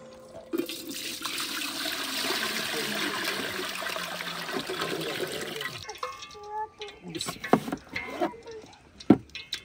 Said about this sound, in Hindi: तसले में डाल लेंगे पानी